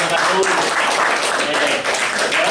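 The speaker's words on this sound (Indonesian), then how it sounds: "tepuk tangan dong untuk kelompok 1" Classroom applause for a student group after a presentation, a continuous wash of clapping that runs steadily throughout, with some voices mixed in.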